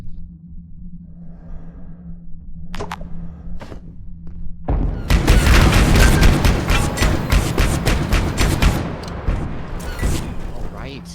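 Automated turrets in the video game Abiotic Factor open fire in a loud, rapid barrage of booming shots that follows quieter thuds, with players talking over the noise.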